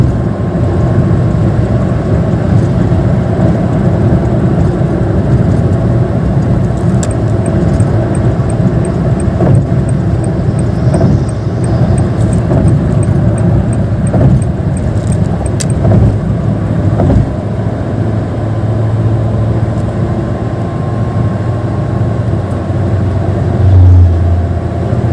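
A Honda Brio 1.3 with a DCT gearbox cruises on a toll road, its engine and road noise a steady, loud low drone heard from inside the cabin, with faint rattles and no talking.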